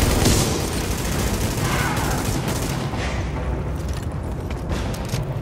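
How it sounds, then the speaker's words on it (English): Dense gunfire in the video game The Division, a continuous loud roar of overlapping shots and blasts that runs the whole time with little letup. "these characters find a novel way to shoot around corners"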